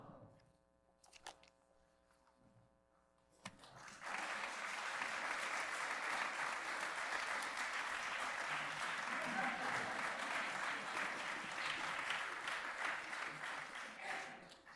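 Applause from a congregation at the end of a bar mitzvah speech breaks out suddenly after a few quiet seconds, then holds as a steady, dense clapping that fills the room and eases off slightly at the end.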